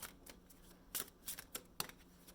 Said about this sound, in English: We'll pull one more card.